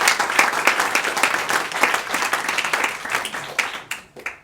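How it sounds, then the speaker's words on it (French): Audience applause at the first French think tank awards ceremony in 2011, a lively burst of clapping that gradually thins out and fades toward the end. "On peut l'applaudir."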